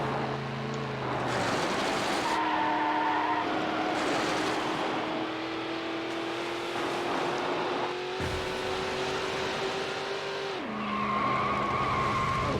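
A Chevrolet Corvette C5 Z06 races flat out in Need For Speed Hot Pursuit 2, its engine droning loudly and climbing through several gear changes, with tire noise between shifts.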